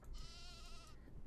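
A sheep bleats once in a Nancy Drew video game, a single drawn-out wavering cry, faint and alone.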